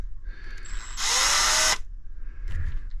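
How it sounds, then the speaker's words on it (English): A single loud burst of power drilling pilot holes into a new kayak, lasting under a second, with quiet room noise before and after. "I have to drill pilot holes"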